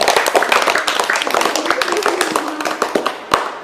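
Schoolchildren at a government LP school clap for a correct answer, a loud, dense burst of rapid overlapping hand claps lasting several seconds, with voices mixed in.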